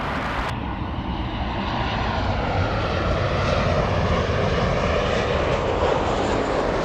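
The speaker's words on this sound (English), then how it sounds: "Special livery Alaska coming in." An Alaska Airlines jet in a special paint scheme comes in to land at Los Angeles International, a continuous engine rumble and whoosh swelling gradually louder, with no talking.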